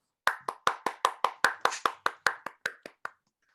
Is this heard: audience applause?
yes